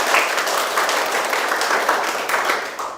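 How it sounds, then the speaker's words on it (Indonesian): Audience applause in a teaching session on unwanted pregnancy: a steady wash of many hands clapping, close and loud, running continuously for the full stretch with small swells. "Kita kasih aplaus dulu bagi yang sudah menjawab."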